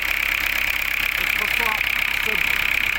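A diesel car engine idles with a rough, steady drone and faint knocking, close and loud throughout, while someone speaks over it.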